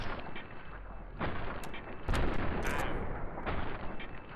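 Assault rifle gunfire in the video game Fallout: New Vegas comes in bursts, with two heavy shots followed by a rapid rattling volley over a dense, roaring battle din.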